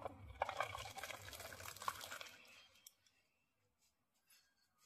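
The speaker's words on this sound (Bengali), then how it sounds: "এবার আমার ঘুগনিটা হয়ে গেছে, আমি এবার নামিয়ে নেব। তো বন্ধুরা এবার ঢেলে নিচ্ছে ঘুগনিটা।" Cooked ghugni being poured out of a pan, a wet sliding and scraping pour lasting about three seconds and then fading into quiet.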